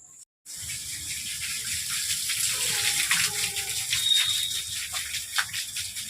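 Water trickles and splashes steadily after a brief silence, a continuous close hiss with small bubbling variations and a faint whistle-like tone partway through, no speech.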